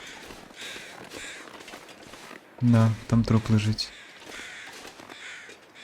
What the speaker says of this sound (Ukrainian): Там ворони літають.